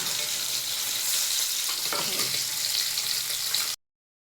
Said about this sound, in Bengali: আর এই মাছগুলোর সাথে কটা লঙ্কাও ভেজে নেবো